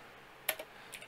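A few keystrokes are typed on a computer keyboard while entering a command to set up a GTA5 FiveM server, with two or three sharp clicks standing out against a quiet background.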